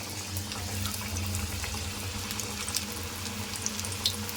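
Stick-shaped Bombay snacks fry in hot oil, a soft bubbling hiss with scattered crackles and pops over a low steady hum, fairly faint and without speech.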